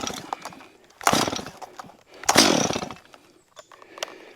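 Stihl MS-250 chainsaw in rough condition, revved in two loud bursts of roughly a second and a half each, separated by quieter idling and knocks, close by.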